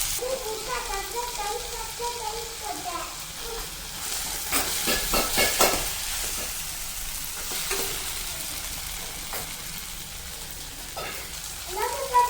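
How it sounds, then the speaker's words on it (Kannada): Finely chopped tomato frying in a pan for okra gojju gives a steady close sizzle, with bursts of spatula stirring and scraping in the middle and a faint voice in the background early on. "ಒಂದು ಟೊಮೊಟೊನ ಸಣ್ಣಗೆ ಹಚ್ಬಿಟ್ಟು ಅದನ್ನು ಕೂಡ ಹಾಕ್ಕೊತಾ ಇದ್ದೀನಿ. ಅದನ್ನು ಕೂಡ ಫ್ರೈ ಮಾಡ್ಕೋಬೇಕಾಗುತ್ತೆ."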